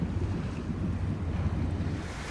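Ocean waves wash in and out along a shore, a continuous low rumble of surf mixed with wind buffeting the microphone, steady and fairly close with no voices.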